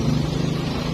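Passing road traffic beside a roadside workshop, a steady, loud engine rumble close by with no clear breaks.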